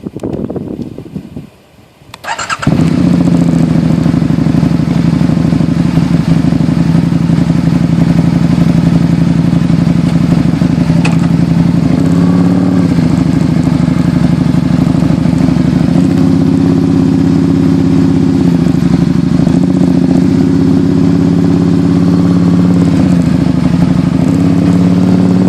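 A Can-Am Spyder RS-S three-wheel motorcycle on a highway ride: after a brief quieter moment, its engine drones loud and continuous, close up, with steady rumble and clatter throughout.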